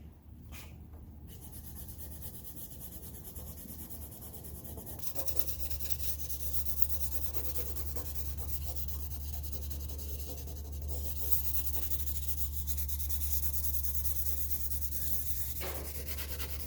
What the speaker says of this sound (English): I'm jumping down to 1000 grit just to nab some of these really high places.